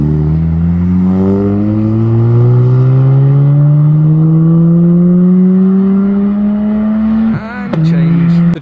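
A sports car such as a Nissan Skyline R34 or Mazda RX-8 leaving a car show, its engine revving loud and close with a long rising pitch through one gear, a quick shift, then pulling on.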